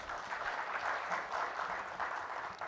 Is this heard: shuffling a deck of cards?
no